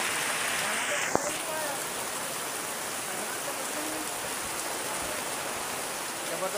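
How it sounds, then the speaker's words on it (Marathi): Heavy, non-stop rain pours in Jammu and Kashmir on the Vaishno Devi route, a dense, even wash of falling water that continues throughout, with one sharp tap near the start. "जबरदस्त पाऊस आहे इकडे जम्मू काश्मीरमध्ये."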